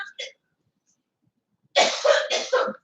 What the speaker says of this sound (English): she's still coughing a little bit, and I'm still coughing a little bit